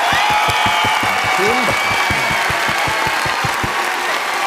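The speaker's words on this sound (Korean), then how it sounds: "큰 박수로 환영합니다" A crowd claps steadily for several seconds at a workshop opening, dense applause with a faint voice or two rising briefly above it.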